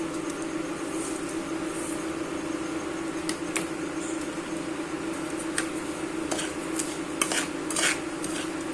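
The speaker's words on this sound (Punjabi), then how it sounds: "ਹੁਣ ਇਸ ਵਿੱਚ ਪਾਵਾਂਗੇ ਦਲੀਆ ਦਲੀਏ ਨੂੰ 1-2 ਮਿੰਟ ਤੱਕ ਘਿਓ 'ਚ ਭੁੰਨਾਂਗੇ" Broken wheat dalia roasting in hot ghee in a pan, a steady soft sizzle with scraping and clinks as a spoon stirs the grains, close and continuous without talk.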